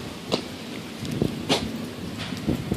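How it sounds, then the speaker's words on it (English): Heavy rain falls steadily during a thunderstorm in Queens, New York, a dense hiss punctuated by several louder splashes or drips at irregular intervals, with no voices. "It's starting to get a little heavier now, the rain."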